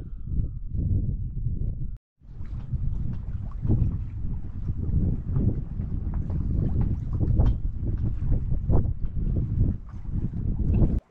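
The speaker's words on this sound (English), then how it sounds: "I know I have to have the engine on for the windlass to work." Sailboat engine running during anchor retrieval with the windlass, a low continuous rumble mixed with heavy wind buffeting and water noise, loud and close, with one brief dropout early on.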